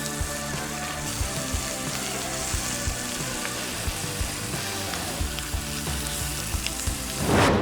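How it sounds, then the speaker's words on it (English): A pork chop's fat strip sears in a hot skillet, giving a steady, dense sizzle throughout with small pops and crackles, ending in a louder burst of spitting at the close. "then we're just gonna sear this fat strip on the outside"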